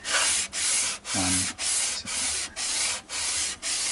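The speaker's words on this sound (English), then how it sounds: "we'll just try and give it a bit of a clean. This is, I think it's about 220 grit on here" An Epiphone Les Paul's frets are sanded with fine 220 grit paper in eight even rhythmic strokes, each a close, soft hissing rasp separated by brief pauses.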